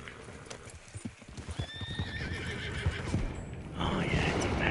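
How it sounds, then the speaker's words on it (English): A horse whinnies over the steady clip-clop of hooves, close and continuous, with a rising rush of noise near the end. "Come, horse. Stupid horse."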